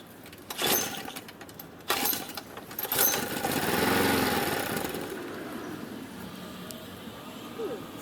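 White Outdoor Products push lawn mower being started, with sharp pull-cord strokes and a brief engine sputter that fades out, close by.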